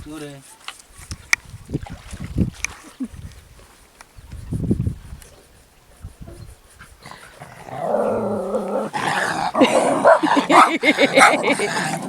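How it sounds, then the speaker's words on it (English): Dogs bark, yip and growl in short bursts outdoors in an African village setting, some sharp and close, with people talking and excited voices over them toward the end. "Amon, stop distressing my dogs."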